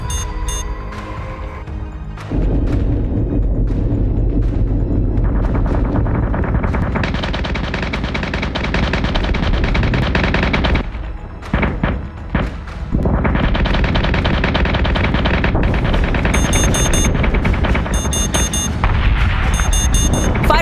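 Rapid, loud space-battle gunfire from the Battlestar Galactica Deadlock video game, with sustained machine-gun bursts and booming artillery layered over game sound effects and alert tones, briefly dropping away mid-sequence before resuming.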